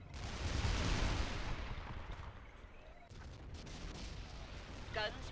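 Guns and turrets firing in the strategy game Forged Battalion: a dense, rumbling barrage of gunfire and booms, loudest at the start, then thinner crackling shots with brief electronic chirps near the end.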